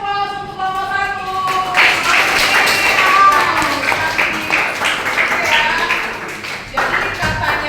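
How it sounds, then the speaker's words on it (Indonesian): A classroom group claps for the first presenting team, a brief patter of applause mixed with tapping and chatter from the room, with a voice speaking over it at the start. "kasih aplaus untuk kelompok 1"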